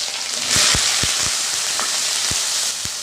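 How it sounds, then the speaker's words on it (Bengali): Eggplant frying in a pan gives a steady sizzling hiss, close and fairly loud, with a few sharp clicks and taps spaced through the short stretch and no voices. "আর বেগুনটা আমি ভেজে নেব।"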